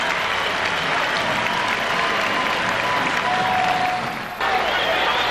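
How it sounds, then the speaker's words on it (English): Basketball arena crowd at the Palace steadily applauding the Detroit Pistons during an NBA playoff timeout, a dense, loud, sustained wash of clapping and cheering that dips briefly near the end before swelling again. "It's been a nice touch by the fans of the Detroit Pistons here at the Palace. as they continue to applaud for the Pistons."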